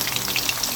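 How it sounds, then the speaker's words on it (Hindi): Finely chopped onions hitting hot oil in a pan for a mixed vegetable curry, a brief dense sizzle with crackling spits, close and steady, no talking. "मैं इसके अंदर ये प्याज डाल दूँ जो मैंने बारीक बारीक काट लिए।"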